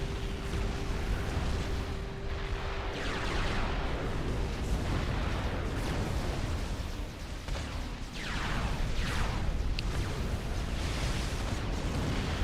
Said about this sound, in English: we are having more artillery incoming here